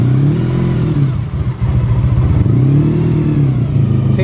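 1986 Honda VF 1000 R V4 motorcycle, revived after 14 years on museum display, running on choke with a touch of throttle: a loud, close, steady rumbling idle that swells in two gentle revs.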